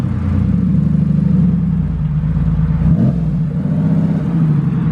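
A modified car engine revs loudly and close by leaving a car show, with a deep, steady rumble that holds throughout and one brief rise near the middle.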